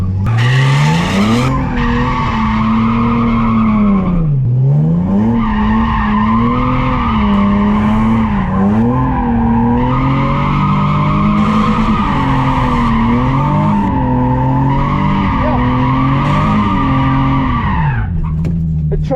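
A Nissan 370Z circles a cone doing donuts, its tires squealing almost nonstop while the engine roars and surges, loud and close for the whole stretch.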